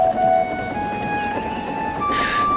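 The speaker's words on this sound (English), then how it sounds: "Donald set off with the breakdown train, and Henry followed." In a Thomas and Friends style railway story, a breakdown train sets off with a sustained whistle-like tone over a rumbling engine, followed by a short bright toot near the end.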